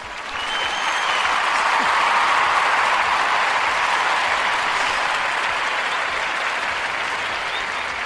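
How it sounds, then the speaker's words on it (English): Steady applause on a talk show podcast, dense clapping that swells in after a moment and holds evenly, loud and close. "so I'm going to applaud that one"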